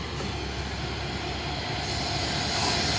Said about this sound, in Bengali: সামনে একটা ট্রেন আসতেছে